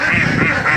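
Ducks on a rural homestead quack close by, three loud nasal quacks in quick succession within under a second, with no talk.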